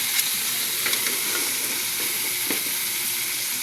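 Ginger, garlic and onion sautéing in a pan give a steady close sizzle and fry hiss with a few light stirring clicks, and no one talks.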